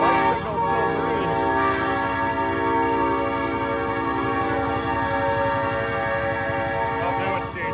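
A loud, sustained diesel locomotive horn blaring nearby over the chugging rumble of the engine, holding for several seconds before easing off.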